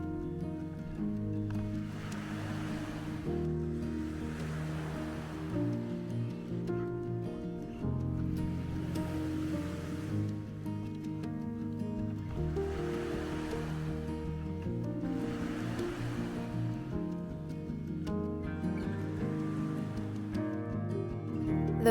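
Ocean waves break on a Pacific Northwest beach on the Olympic Peninsula, soft rushing surges rolling in every few seconds beneath steady music.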